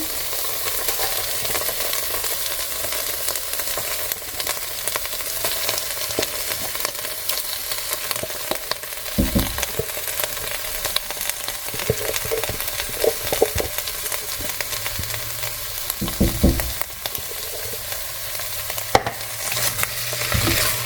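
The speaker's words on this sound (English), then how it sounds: "now I'm going to add my pumpkin" Pumpkin sizzles in a pot of curry soup while being stirred, a steady frying crackle with scraping stir strokes and occasional louder clunks of the spoon, no talking.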